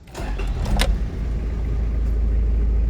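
A 3.0L 1KZ-T turbo diesel in a Toyota Land Cruiser KZJ73 turns over and catches from cold, with a short cranking burst before settling into a steady, low, close idle rumble.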